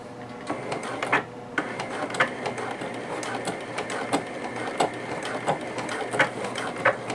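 Sewing machine back stitching along a vinyl edge for a beach tote bag, giving a steady, close mechanical clatter with regular sharp clicks throughout.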